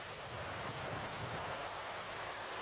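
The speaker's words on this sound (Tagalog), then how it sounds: "Lakas ng mga alon. Malalaki ang alon dito sa lugar na to." Strong waves roll in at Cheung Sha beach on Lantau Island, a steady broad roar of surf and wind blowing across the microphone, continuous and loud with no voices.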